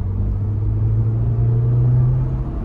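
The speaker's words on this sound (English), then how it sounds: "So we'll give it a little throttle here." A 2024 Jeep Wrangler Sport with a turbocharged engine, heard from inside as it accelerates under throttle, giving a loud, steady low rumble with a rising engine hum.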